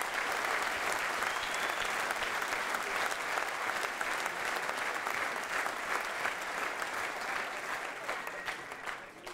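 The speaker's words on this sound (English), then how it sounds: "Give yourselves a huge, huge round of applause, because the turnout here is absolutely phenomenal." Sustained applause from a large crowd packing a hotel function room at an evening event, steady and dense for nine seconds before easing slightly at the end.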